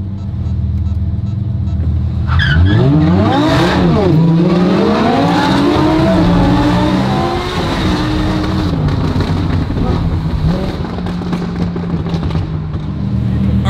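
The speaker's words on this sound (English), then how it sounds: "Your car sounds a lot more high-pitched without the wing." A Lamborghini accelerates hard on a city street in Beverly Hills, its engine rising in pitch through several revving climbs, loud and close, then settling into a steady drone as it pulls away.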